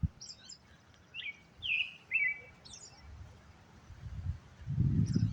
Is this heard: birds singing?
yes